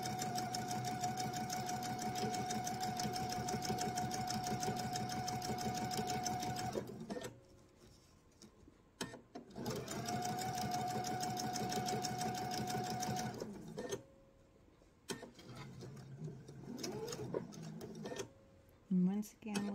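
A sewing machine runs steadily, stitching a straight seam across the fabric of an eyeglasses case, with two long bursts of motor hum and needle chatter separated by pauses and short stops near the end.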